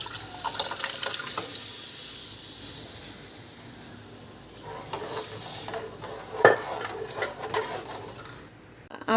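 Lentil water poured into fried masala in a pan, with a faint hiss and splash followed by stirring clinks and bubbling, quiet and close with a few sharper knocks.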